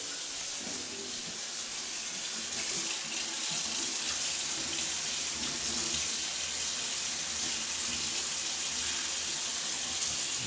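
Water runs steadily from a tap into a sink, a continuous close hiss and splash with no breaks across the whole stretch.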